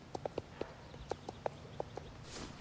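A horse shifts and stamps while being saddled, sharp hoof clops landing in an irregular string of about ten close knocks, with no talk.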